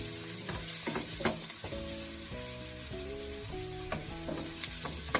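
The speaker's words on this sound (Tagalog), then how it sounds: "Ngayon ho, pagkatapos ho ng onion, ng sibuyas, lagay na ho natin ang ating garlic." Chopped garlic cloves and onion sauté in a pan, giving a steady, moderate sizzle with occasional stirring scrapes. A faint tonal hum runs underneath, and no voices are heard.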